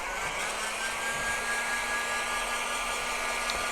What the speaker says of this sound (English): hit it with a heat gun. Just get it up to temperature.